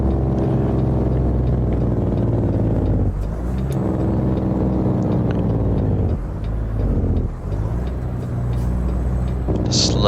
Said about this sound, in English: Just love how that sounds. Love listening to a truck.